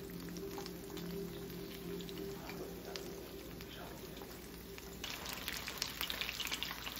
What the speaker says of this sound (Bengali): মাছগুলোকে ভালো করে একদম উল্টে পাল্টে দুদিকটা একদম লাল লাল করে ভেজে নেব